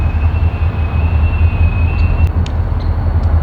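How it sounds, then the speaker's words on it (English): A freight train creeps slowly through a rail yard, giving a deep, continuous rumble and low drone from close by, with a faint high tone and a few metallic clicks partway through. "Probably gonna come up, switch tracks, and go get the other half of the train."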